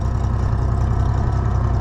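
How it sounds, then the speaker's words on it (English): An old tractor engine with governor trouble idles steadily and close, a low, even rumble carrying a faint regular tick throughout, with no voices over it. "The old tractor's got some other issues, I think, but it has a little bit of a tick to it"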